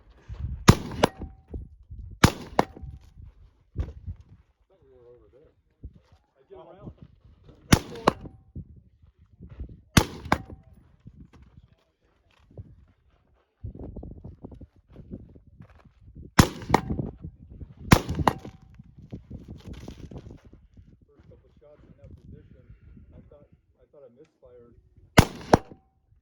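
Rifle shots ring out one at a time at a tactical rifle match, each a sharp loud crack with a brief ringing tail, spaced several seconds apart, with quiet talk and shuffling in between.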